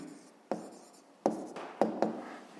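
Handwriting on paper while working a fifth-grade maths exercise: four distinct pen strokes, each a sharp scratchy onset that fades out, close and clear with no talking.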